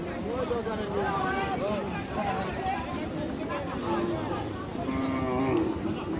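Cows moo loudly and repeatedly at a busy cattle market in Dinajpur, with drawn-out calls and overlapping lows rising above the crowd. People talk throughout.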